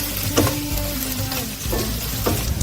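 Scallions and ginger sizzle in hot pork fat in a wok, a dense, close frying crackle with a few stirring scrapes and bumps, steady and fairly loud.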